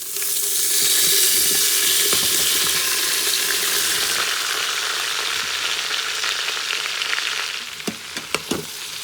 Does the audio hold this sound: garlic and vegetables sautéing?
yes